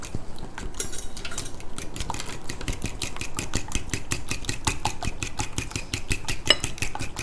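A tandoori chicken fries mixture is stirred in a bowl, giving a steady run of rapid clinks and soft scraping from the utensil against the bowl, fairly close and without talk.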